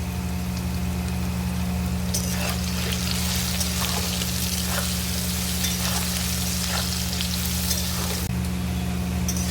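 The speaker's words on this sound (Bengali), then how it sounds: "এই আলুটার মধ্যে একটু দেবো লবণ, আর কিছুটা হলুদ গুঁড়ো দিয়ে আলুটাকে বেশ ভালো করে লাল লাল করে ভাজবো।" Potatoes fry with salt and turmeric powder in hot oil, a loud close sizzle that stays constant, with a steady low hum underneath and occasional stirring scrapes.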